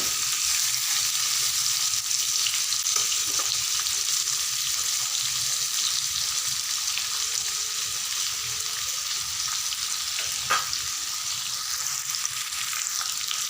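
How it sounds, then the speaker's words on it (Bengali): Steady, continuous sizzle of jackfruit pieces frying in hot oil, close and even throughout, with a faint clink partway. "এঁচড়গুলোকে ভেজে নিলে কিন্তু টেস্টটা বেড়ে যায় তো সেই কারণে আমি ভেজে নিচ্ছি"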